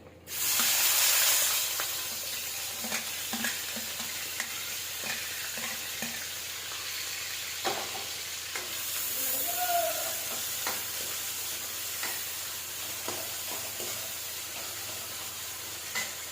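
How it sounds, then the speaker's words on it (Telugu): Chopped onion frying in oil in a pan, with urad dal and chana dal, while cooking vangi bath; a steady close sizzle and hiss runs throughout, louder at the start, with occasional stirring clatters. "ఆనియన్ మంచిగా ఫ్రై అయిపోయింది"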